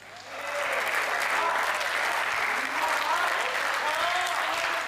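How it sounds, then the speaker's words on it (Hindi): A poetry audience at a Hindi kavi sammelan breaks into sustained, loud applause, a dense wash of clapping hands that swells quickly and holds steady throughout. "तालियां बजानी है तो मिलकर एक बार बजा दीजिए।"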